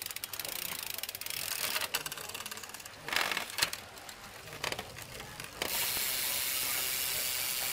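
A Shimano Deore front derailleur on a carbon XDS MT2 mountain bike shifts up onto a larger chainring of a three-ring crankset, giving several close mechanical clicks and ratcheting rattles over a steady hiss of spinning drivetrain.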